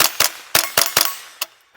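Six sharp gunshots from a .22LR Ru-Zooka bazooka-style gun, loud cracking reports fired in a quick irregular string with short gaps, the last one after a longer pause.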